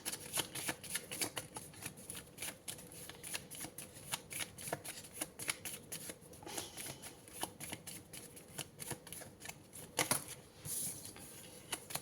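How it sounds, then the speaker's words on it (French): Tarot cards being drawn and shuffled for a horoscope reading: quiet, continuous rapid riffling and flicking of cards, close and soft, with a few brief louder slaps, no voice over it. "je vais prendre une deuxième carte"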